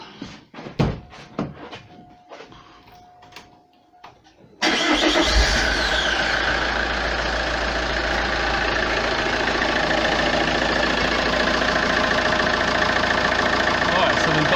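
A 2008 Vauxhall Astra 1.9 CDTI diesel with a DPF pressure sensor fault cranks briefly and fires, then settles into a steady, loud, close diesel idle that continues to the end, after some quiet handling noises and a short tone.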